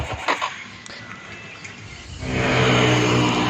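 A Yamaha Jupiter MX motorcycle with a newly fitted, still untuned CR carburettor idles roughly, then rises into a louder, steady rev about two seconds in, heard up close.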